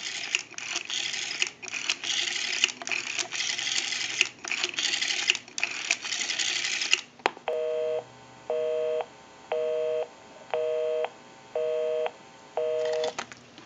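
Rapid clicking and ratcheting of a number being dialed on an Ericofon Northern Electric telephone, followed by a regular series of short beeping tones repeating at an even pace.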